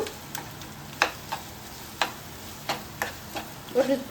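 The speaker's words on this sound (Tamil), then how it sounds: "இப்போ நம்ம அரைச்சி வச்சிருக்கிற தேங்காய், மிளகு, சோம்பு போட்டுக்கலாம். நல்லா வதக்கிக்கோங்க." Ground coconut, pepper and fennel masala for Kerala-style chicken curry is sautéed in a pan, with a soft sizzle and a series of crisp spatula taps and scrapes at irregular intervals.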